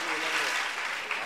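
Audience applause at a Shrimad Bhagwat Katha at Mahakaleshwar Mandir, a dense, steady clatter of many hands filling the hall throughout, close and fairly loud.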